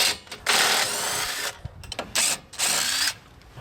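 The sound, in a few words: electric power trailer jack motor lowering the camper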